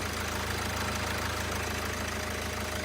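A fourth-generation Kia Sportage Noblesse engine idles steadily, a continuous low mechanical rumble with a fine regular pulse that holds unchanged throughout, with no voices.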